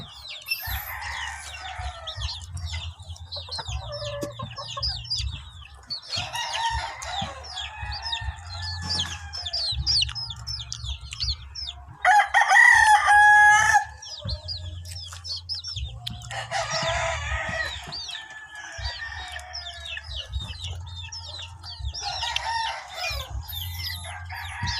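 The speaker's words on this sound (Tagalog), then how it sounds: "Nay manok." Chickens cluck and call nearby through a long stretch, with one louder crow in the middle, scattered over a low humming background and brief quieter gaps.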